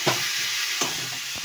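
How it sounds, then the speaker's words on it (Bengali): Meat frying with ground spice paste in a pan, a constant sizzle with two or three short scraping stirs, close and no voices. "এবারে এই বাটা মশলাটা এখানে দিয়ে দেবো, একসাথে কষাবো"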